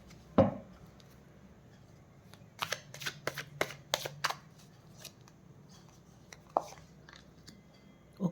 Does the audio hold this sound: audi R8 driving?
no